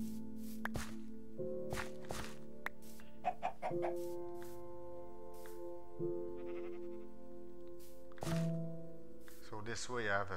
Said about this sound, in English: say hello to this little chicken here